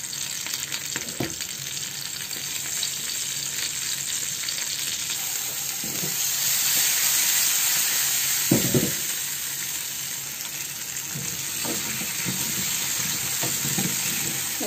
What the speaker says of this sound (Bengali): অন্য পাশে আমি সামান্য তেল দিয়ে ভেজে নেব আলু।